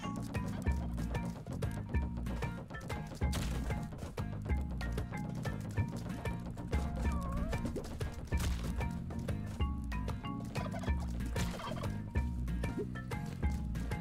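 Turkeys gobble repeatedly in the video game Spelunky 2, their calls layered over busy, steady game music with no talking.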